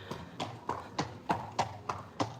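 Horse hooves clip-clopping on a road in Cartmel during the August Bank Holiday, eight steady, evenly spaced hoof strikes passing fairly close at a walking pace.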